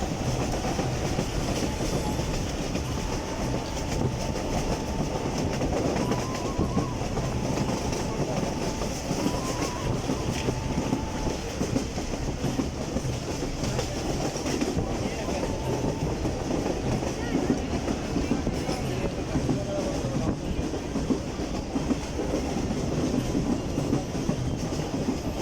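A safari train runs on rails near Attock, giving a continuous loud rumble with rhythmic clickety-clack from the wheels and a faint squeal.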